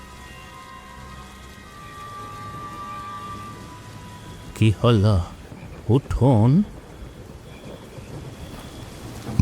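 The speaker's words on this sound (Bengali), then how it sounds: "বৃষ্টি তখন আরও বেড়ে গেল।" Heavy cartoon-effect rain pours steadily at night, a dense hiss running throughout, while someone speaks briefly over it in the middle.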